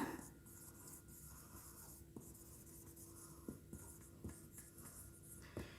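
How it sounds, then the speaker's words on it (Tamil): A pen writing a sentence during an English grammar lesson, quiet scratchy strokes with small taps as letters are formed, steady and close, with a faint voice in the background. "இப்போ இன்னொரு சென்டென்ஸ் எழுதுகிறேன்"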